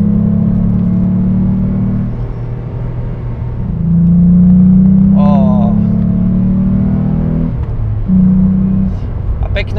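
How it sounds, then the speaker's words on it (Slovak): The six-cylinder engine of a Renault Clio V6 RS drones loudly inside the cabin, a dense, steady hum that swells and eases with throttle changes, with a voice talking over it briefly. "Celá kabína sa zaplní zvukom toho 6-valca"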